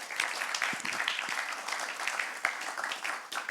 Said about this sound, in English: So we can clap them once more.